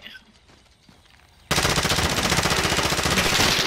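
Sustained automatic gunfire from Call of Duty: Modern Warfare breaks in abruptly after a quiet, low opening, then rattles on loud and dense without pause to the end.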